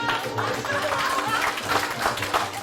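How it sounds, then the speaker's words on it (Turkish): A studio audience at a Turkish stand-up and game show applauding; a steady wash of many hands clapping, moderately loud, with faint crowd murmur underneath. "Bir alkış alalım."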